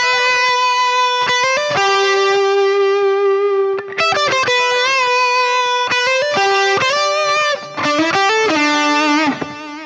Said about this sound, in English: the solo plus boost tone that is used exclusively for the end of the song with the dual harmonized leads